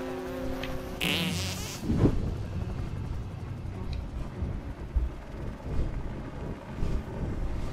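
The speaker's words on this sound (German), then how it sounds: "Wo soll ich den denn hinfurzen?" A sputtering, buzzing fart-like noise from South Park: The Stick of Truth, followed by a steady low rumble and scattered electronic effects.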